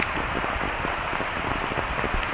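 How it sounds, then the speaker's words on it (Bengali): Heavy rain pours steadily over a village, a dense, continuous hiss and patter of drops on surfaces, close and loud throughout with no voices. "চারদিকে বৃষ্টিতে থই থই করছে।"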